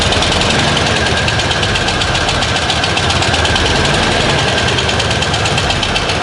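A 31-year-old Ford F-150 engine revving with a misfire, a loud, continuous, rough mechanical roar heard close up for several seconds with an uneven, knocking texture and no talking.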